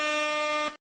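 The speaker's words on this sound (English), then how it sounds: "requested the air horn" A single loud air horn blast held steady for about three-quarters of a second before cutting off abruptly, its bright, brassy tone stacked with strong harmonics.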